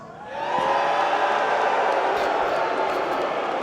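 An esports arena crowd at IEM Dallas cheering for MOUZ, a sustained roar of voices and whoops rising quickly and holding steady at moderate volume.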